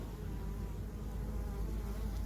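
Honey bees gather nectar from breadfruit, their close, steady buzzing drone filling the air without pause. The hum holds at a constant level and no one speaks.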